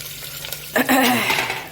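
Green beans and cauliflower are stirred and fried in a pan, with a sudden loud sizzling burst partway through that stays steady to the end, close and alone.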